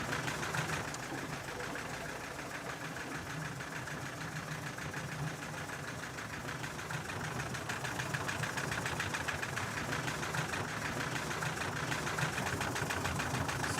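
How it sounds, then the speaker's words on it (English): A pump runs idle with nothing but air passing through, giving a steady, close mechanical hum and rattling vibration that continues evenly without a break. "Right now, the pump is running idle, meaning it's only pumping air."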